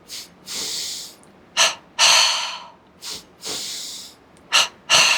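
Yoga breathing exercise: paired sharp nasal inhales alternate with longer breathy exhales through the mouth, close and loud, repeating in a steady rhythm with silent gaps between breaths.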